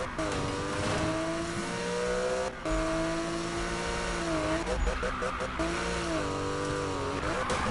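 A car drifts in the Need for Speed racing game, engine revving and wavering with tire screech as it slides, while someone talks over the game sound.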